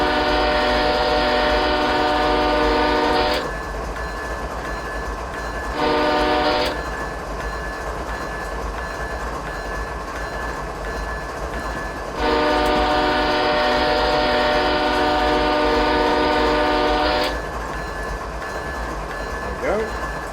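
A Norfolk Southern coal train's horn in Train Simulator 2016 sounds in three loud blasts, long, short, then long, over the constant rumble and clatter of the locomotive on the rails.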